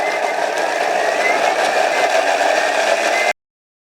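A Thermomix runs at speed 10, blending ketchup ingredients in a steady, loud, whirring roar with a slight rattle. It holds evenly for about three seconds and then cuts off abruptly into silence.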